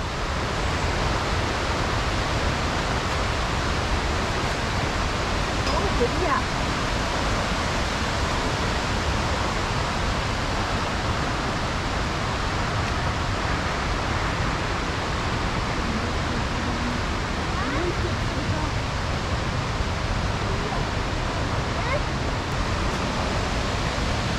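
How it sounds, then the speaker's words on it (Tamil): Upper Ramboda Oya Falls in Sri Lanka sends out a steady, broadband rush of falling water, continuous and fairly loud from start to finish with no breaks. "எப்படி இருக்குன்னு பாருங்க இந்த சைடில் தெரியுது வாட்டர் ஃபால்"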